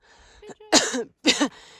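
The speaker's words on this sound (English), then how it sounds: "altitude cough" Two harsh, close coughs from a hiker atop a high mountain pass, each a short explosive burst, preceded by a brief breathy throat sound and separated by a short gap.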